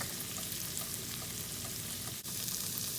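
Cheese bubbles and crisps in a pan over medium-high heat for a keto wrap, giving a steady, even sizzle with soft popping and no voices.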